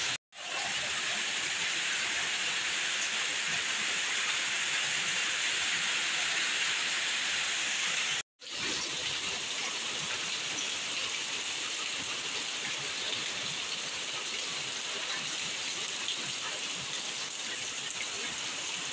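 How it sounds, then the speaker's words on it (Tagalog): Dense, loud hiss of heavy rain pouring down continuously, broken only by two brief cuts, with no voices over it. "Grabe naman talaga yung ulan."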